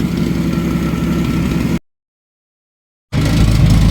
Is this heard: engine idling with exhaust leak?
yes